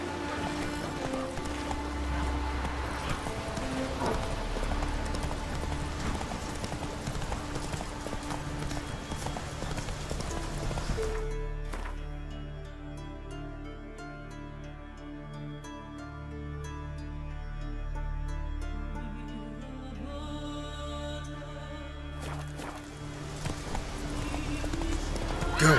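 Horse hooves clip-clop at a gallop in The Witcher 3: Wild Hunt, steady and close for most of the stretch, with game music and ambience running underneath and the pace easing partway through.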